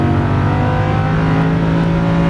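A Lamborghini Huracan LP610-4 engine pulls hard under throttle, a loud steady close drone with a strong low hum, no voices over it.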